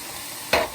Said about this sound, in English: Make a pretty thick patty, throw it down in the pan